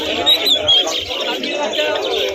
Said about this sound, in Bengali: দেখো বন্ধুরা এখানে বদ্রি পাখি রয়েছে